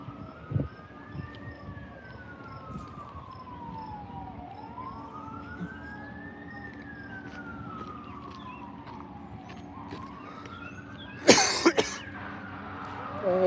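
A fire truck's siren sweeps slowly up and down as it drives past, fairly steady in level, with a sharp cough-like burst near the end.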